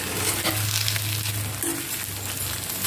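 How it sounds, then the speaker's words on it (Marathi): A spiced vegetable filling for dosa is stir-fried in a pan, producing a dense, steady sizzle with intermittent scraping from the spatula, heard up close with no voices. "याला 1-2 मिनिट फक्त आपल्याला परतवून घ्यायचं आहे."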